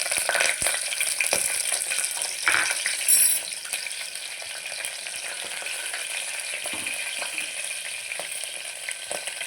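Curry leaves crackle and sizzle in hot oil in a pot for mutton bone soup, a steady close frying hiss with scattered pops and a few clinks, unbroken by speech.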